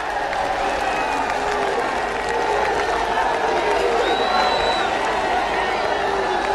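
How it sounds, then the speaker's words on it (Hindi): Large outdoor crowd at the Haryana Shakti political rally in Gohana, applauding and cheering with scattered whoops, a dense, continuous wash of clapping and voices. "ये जोरदार तालियों से स्वागत करें।"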